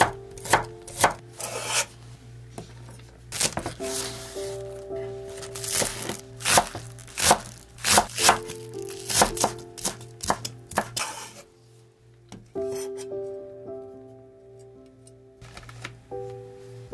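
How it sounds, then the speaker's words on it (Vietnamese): A knife chops green onions rapidly on a cutting board, sharp repeated taps in irregular bursts with brief pauses, close and clear over a low steady hum. "Hành lá thì các bạn cắt nhỏ ra."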